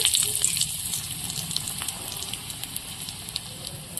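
Chili and black cumin frying in hot oil in a kadai, a steady close crackling sizzle with fine bright spatters, heard alone without talk.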